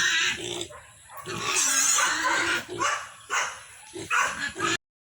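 Pig in a rural provincial yard squealing and grunting loudly in repeated bursts, close by, with dog-like yelps mixed in and faint talk beneath.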